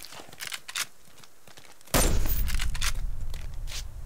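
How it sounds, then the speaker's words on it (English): A loud, close shotgun blast goes off at point blank in the survival video game Subsistence, followed by a sustained rumbling roar, after a few quieter clicks. "Two shotgun blasts point blank did not take him out."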